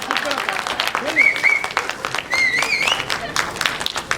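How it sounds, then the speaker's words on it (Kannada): An audience applauds at a Kannada movie audio launch event, with dense continuous clapping and a few whistles rising over crowd noise and voices. "ಎಲ್ಲ ಗಣ್ಯ ವ್ಯಕ್ತಿಗಳು ಜೋರಾದ ಒಂದ್ ಚಪ್ಪಾಳೆ ಬರ್ಲಿ"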